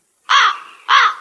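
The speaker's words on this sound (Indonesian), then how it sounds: "suara gagak" Two loud, harsh crow caws from a sound-effect preset on an M9 soundcard, each lasting about half a second with a short gap between, close and clear with no other sound.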